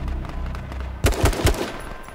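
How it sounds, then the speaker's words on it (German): Gunfire in the H1Z1 King of the Kill battle royale game: a quick string of four or five sharp shots about a quarter second apart, fairly loud against a low background rumble. "aus dem Wald noch Schüsse"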